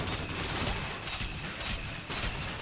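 A volley gun from BioShock Infinite fires in a dense, loud burst of rapid explosive blasts, several shots rolling together over a continuous rumble with no talking.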